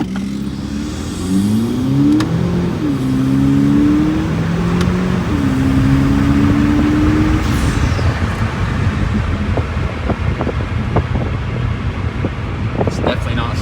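Kia Stinger 2.0T turbo in sport mode accelerating hard from a stop, engine note rising through several gear shifts to about 60 mph, with steady road and wind roar inside the cabin.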